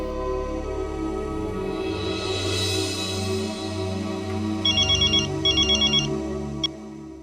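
A telephone rings in two short bursts of electronic trilling over a steady background of music-like tones, fairly close and clear.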